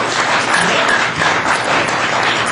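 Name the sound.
applause for the Ground Zero Lounge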